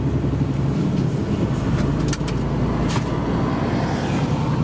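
A long-haul truck drives along a road in Sweden, its engine and road noise forming a steady, loud drone with no talk over it.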